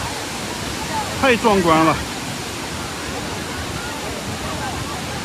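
Hukou Waterfall on the Yellow River in Ji County, Shanxi, roars as a steady, broad rush of falling water, loud and unbroken throughout, with a brief excited voice speaking over it near the start.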